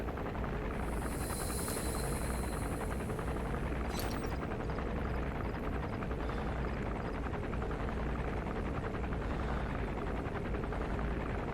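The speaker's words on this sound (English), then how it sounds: "That's an enemy gunship." Enemy gunship helicopter in Metal Gear Solid V: The Phantom Pain, a steady loud rotor roar throughout with a brief sharp burst near the start.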